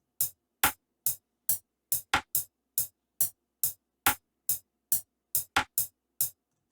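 A drill drum pattern of snare hits and rim shots with a metronome, programmed in FL Studio, sounds as crisp, evenly spaced percussive clicks and cracks, dry and isolated with silence between hits.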